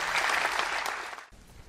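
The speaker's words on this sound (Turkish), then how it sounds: "Göç filminde emeği geçen herkese bir kez daha kocaman bir alkış rica edelim" A short burst of dense audience applause at a film festival gala, steady and fairly loud, then cutting off abruptly near the end.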